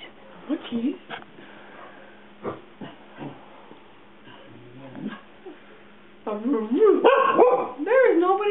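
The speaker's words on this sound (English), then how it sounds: "What are you barking at?" A pet dog barking and yipping indoors, short scattered barks early on, then louder, more continuous vocalizing near the end, close to the mic, with a person talking in between.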